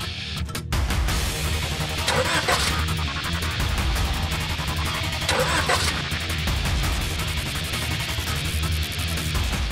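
A car engine, restarted after suddenly stalling, cranks and runs loudly and steadily throughout, with two brief bursts of hissy noise partway through.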